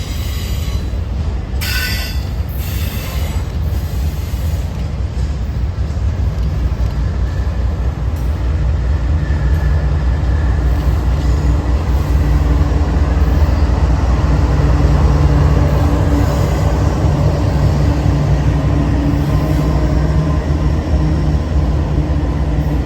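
Freight train with mid-train DPU locomotives rolling past, a loud continuous rumble of wheels and cars with a faint squeal on top, growing slightly heavier as it goes.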